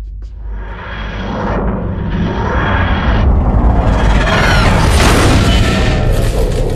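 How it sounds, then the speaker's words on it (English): A bombardment explosion in a Doctor Who scene rolls out as a loud, sustained roaring blast that swells and churns for several seconds, with rumbling booms and crackling debris and no voices on top. "Davros, I need your confirmation to begin the next bombardment, sir."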